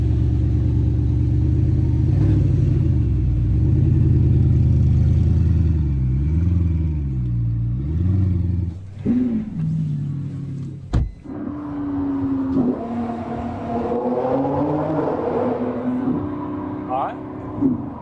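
A $4 million car's engine, not yet warmed up and held below 5,500 RPM, rumbles and rises and falls in pitch through several revs on a test drive, with a person speaking over it.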